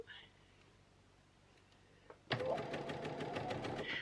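After near silence and a click, a sewing machine starts stitching piping along a curved seam, its fast, even mechanical chatter running steadily and close to the end.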